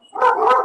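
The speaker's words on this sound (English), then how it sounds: "sorry if you guys hear my dogs in the background" Indoor pet dogs let out a short, close whining bark, two quick yelping bursts in under a second, with no talking over them.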